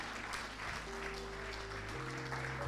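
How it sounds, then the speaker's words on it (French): A church congregation applauds during a bilingual German-French sermon, a dense, steady clapping that fills the space throughout, with no voices standing out. "Applaudiert für den Herrn."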